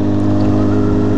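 A Honda Hornet motorcycle engine runs on a bare exhaust pipe with no muffler tip, giving a loud, steady, close rumble with strong low harmonics and no clear rev peaks.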